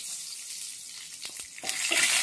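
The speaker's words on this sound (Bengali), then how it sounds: "কালো জিরেটাকে ভালো করে ভেজে নেব যাতে টিটকুটে না লাগে" Nigella seeds frying in a little oil for a thin fish curry, a soft steady sizzle that swells louder and brighter toward the end, close by with no voices.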